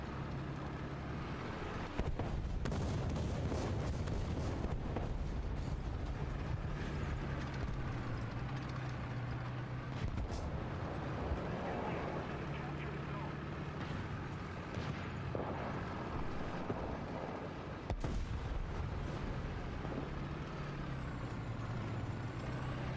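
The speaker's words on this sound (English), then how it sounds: "Man, they're dropping artillery already? We just got here." Video game artillery fire lands in several heavy, sharp blasts spread across a continuous low vehicle engine rumble, with long stretches of droning noise between the impacts.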